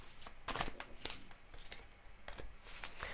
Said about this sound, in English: I always put my cards back into the middle of the pack and shuffle.